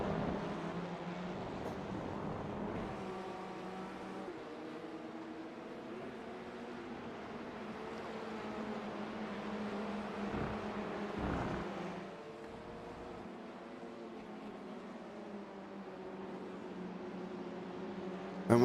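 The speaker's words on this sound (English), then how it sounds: "You just listen to the cars go round the race circuit." Touring cars in the iRacing Tin Top Sprint at Road America drone steadily around the circuit, a continuous engine hum with shifting pitch as cars pass, fairly distant and without talk.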